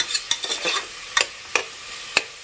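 Onions and spices sauté in a pan for chicken curry, sizzling with a few sharp scrapes and stirs of a utensil, quiet and close, no voices.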